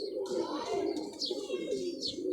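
A male pigeon coos near a female in a mating pen, producing soft, repeated low rolling coos over faint background chirps.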